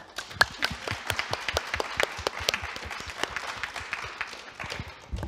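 A crowd at an awards gala applauds in a steady, moderately faint patter of many hands clapping, with individual claps popping out of the mix and no talking.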